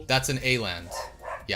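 A dog barking outside a window, yappy barks mixed in with someone talking close to the microphone, fairly loud and overlapping the speech.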